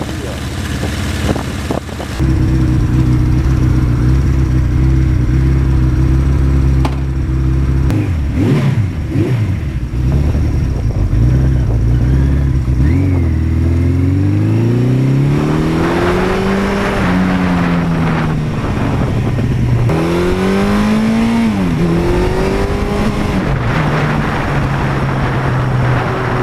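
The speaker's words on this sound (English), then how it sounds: "There should be a lot of wind noise with the GS." Heavy, constant wind buffeting while riding a BMW GS motorcycle with no fairing, a loud rushing roar mixed with engine drone that rises and falls as the bike accelerates and shifts.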